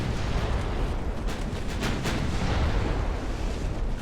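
The warship Rebel exploding as its ammunition cooks off in the naval battle game Ultimate Admiral: Dreadnoughts, heard as a sustained roaring rumble with a cluster of sharper pops and blasts in the middle.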